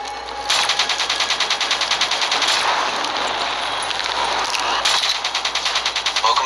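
Sustained rapid minigun fire from Call of Duty Black Ops 3, a dense, loud mechanical rattle running almost the whole time with brief surges and no talk.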